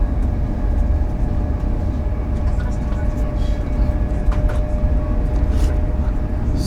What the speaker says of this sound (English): So we just got on the train to Bath.